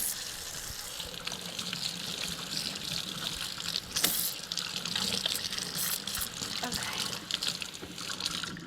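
Tap water runs steadily into a kitchen sink during hand washing while cooking, a continuous close broadband splash with brief louder gushes, and a voice speaks briefly over it.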